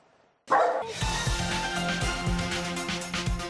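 Dogs at a Krakow animal shelter barking, starting abruptly after a brief quiet moment and continuing as a dense, overlapping chorus of loud barks and yips from several animals.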